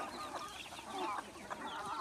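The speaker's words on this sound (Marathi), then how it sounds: "हे आपलं मुक्त संचार गावर आणि कोंबडी पालन आहे, पूर्ण नॅचरल पद्धती" Free-range desi country chickens cluck and chatter on a half-acre natural farm in the morning, a dense overlapping flock of clucks close by with no talk.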